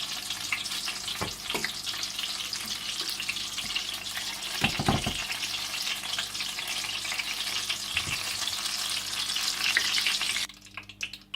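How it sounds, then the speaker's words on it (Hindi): Chillies frying in hot oil for chicken mirchi rolls make a loud, continuous crackling sizzle, close by, with a few thuds and knocks of the utensil, then the frying cuts off abruptly near the end. "और इसी तरह से आप सारी मिर्चों को फ्राई कर लें।"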